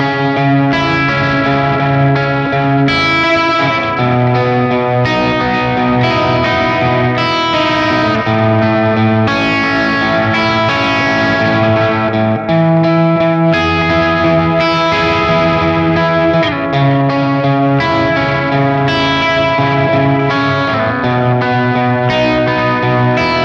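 Sustained electric guitar chords and notes run through analog delay, a subtle chorus and reverb for a worship tone, with echoing repeats and a lush, washed-out tail, loud and continuous with no talking.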